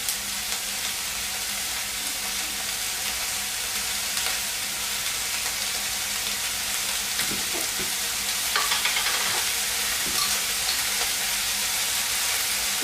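Rosemary being stirred into a hot frying pan for shepherd's pie, with a continuous broadband sizzle and occasional soft scraping of the spoon, steady and close throughout.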